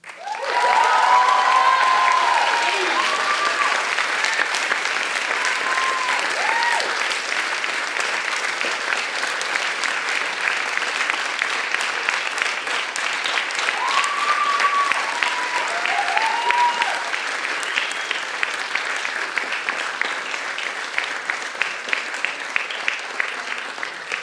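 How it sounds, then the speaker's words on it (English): Sustained applause from an audience for a bell choir at a spring concert, dense and steady, with a few indistinct voices rising above the clapping now and then. "also a huge round of applause to all of our bell ringers"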